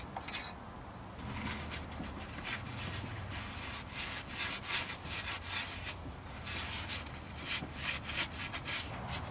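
Rag wiping and rubbing over Volvo 240 engine parts during a water pump and timing belt job, a steady close scrubbing swish in repeated strokes, with no talk.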